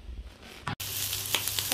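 Food sizzles and fries in hot mustard oil while shrimp bharta is being made, a close, steady crackling hiss with a brief cutoff partway through before the frying noise resumes with small pops.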